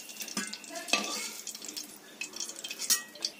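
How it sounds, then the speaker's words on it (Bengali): Boiled eggs frying in hot oil for an egg and potato curry, with a steady light sizzle broken by sharp clinks and scraping from a utensil stirring in the pan, close up. "তেল গরম হয়ে গিয়েছে, তেলের মধ্যে দিয়ে দেবো সিদ্ধ করে রাখা ডিমগুলো।"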